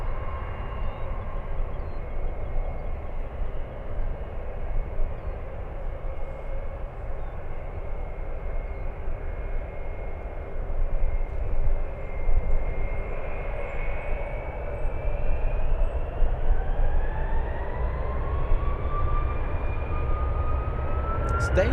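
A Boeing 747 flies overhead near San Francisco, a loud sustained jet roar with a whining engine tone that rises in pitch toward the end, no talk over it.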